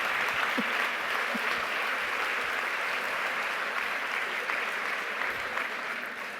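Steady applause from a conference audience fills the hall, continuous and even, then eases slightly toward the end.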